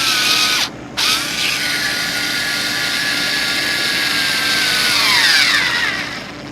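A DOVAMAN electric screwdriver drives an oversized screw under heavy load, its motor and gearbox whining steadily with a brief cut near the start and a pitch sag as it strains toward a stall.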